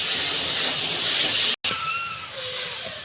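Beef frying in a wok of hot oil with onion, ginger, garlic and cumin paste in a village kitchen: a steady broadband hiss and sizzle that drops out for a moment and then resumes slightly softer.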